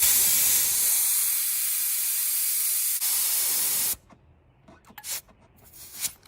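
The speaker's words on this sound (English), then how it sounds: "then you release the pressure using this little nubbin on the back" Air released from a tire through a pressure gauge's release button, a loud steady hiss for about four seconds that cuts off abruptly, followed by quiet handling clicks and light knocks.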